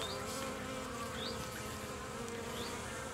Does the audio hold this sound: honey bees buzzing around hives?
yes